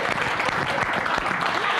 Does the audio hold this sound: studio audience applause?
yes